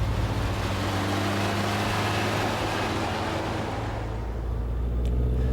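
A Range Rover Classic with a 2.4 VM turbo diesel labours up a steep main road in second gear at full throttle, giving a constant heavy, droning rumble that stays loud and even.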